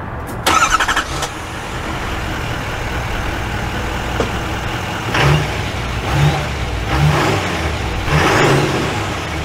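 A 2024 Chevy Silverado 3500 dually pickup truck drives along, its engine humming steadily with several swelling rises in revs, close and continuous with road noise and no talking.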